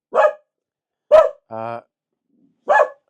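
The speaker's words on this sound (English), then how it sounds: "the dog just started to bark at right" A dog barks in three short, loud bursts spaced about a second apart, with a brief harmonic whine between them and silence around.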